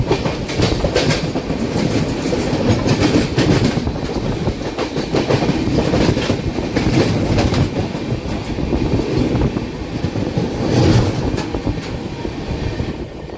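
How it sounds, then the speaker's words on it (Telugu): The 22618 Intercity superfast express runs just after leaving Jolarpettai Junction, a loud continuous rumble of wheels on rail with rhythmic clickety-clack over joints, heard steadily from on board. "ప్రస్తుతం మనం 20 నిమిషాల ఆలస్యంలో జోలార్పేట్ జంక్షన్ రైల్వే స్టేషన్ నుంచి బయలుదేరిపోయామండి"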